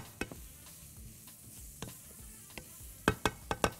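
Spices toast in a pan with a soft dry sizzle, punctuated by sharp scraping taps of a utensil stirring against the metal, irregular at first and then quicker toward the end.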